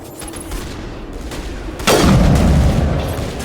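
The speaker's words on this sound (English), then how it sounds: "now they're shooting and hoping to kill him from that distance" Gunfire rings out in Mass Effect Legendary Edition, starting as scattered distant shots and then a loud, sudden burst that swells and lingers, with no talking.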